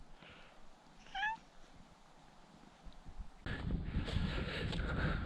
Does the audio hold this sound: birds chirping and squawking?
no